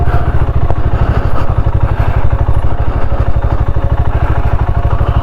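A BSA Scrambler 650 motorcycle is ridden off-road, its engine running loud and close with a steady, rapid thumping pulse and some mechanical clatter.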